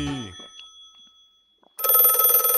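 A cartoon telephone's bell rings loudly and steadily in one continuous burst after a brief stretch of speech and a quiet pause.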